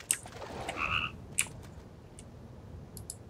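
A toad croaks in the fantasy video game EverQuest 2, a short bubbly croak standing out over a quiet background, with a couple of brief clicks and blips around it.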